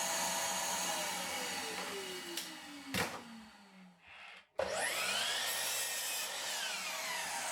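A power saw cuts 2x4 lumber into a bench top piece, its blade whining and rubbing through the wood, then a sharp pause and a fresh cut starting up loudly close by.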